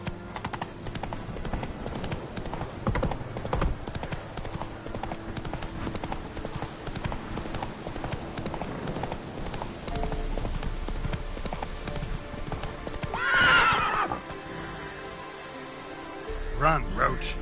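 Roach the horse gallops in The Witcher 3, a continuous rapid clip-clop of hooves mixed with game ambience, swelling briefly near the end.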